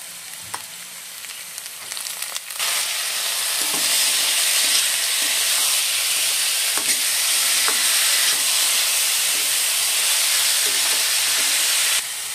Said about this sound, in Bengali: এখন এর মধ্যে আমি মুসুরির ডালগুলো দিয়ে দেব